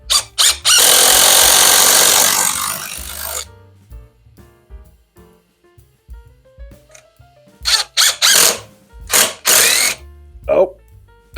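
A power drill driving a screw while building a DIY outboard motor stand, a long loud whirring burst followed by several short ratcheting, squealing pulses, close and loud.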